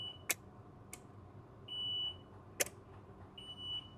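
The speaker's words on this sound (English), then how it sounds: "and hear a beep for each engine." Two ignition beeps, one for each engine of an Intrepid 50 Evolution boat, each a steady electronic tone about half a second long, separated by sharp clicks, fairly quiet against a low hum.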